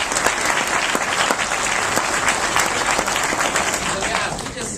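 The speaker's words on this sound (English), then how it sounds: "Give yourselves a round of applause." A business audience at a corporate seminar applauds itself, a loud, dense wash of clapping from a large crowd that holds steady and fades slightly at the end, with a few voices mixed in.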